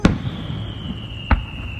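Fourth of July fireworks in Palm Springs bursting in two sharp booms, one at the start and another later, with a faint steady whistle and crowd murmur in between.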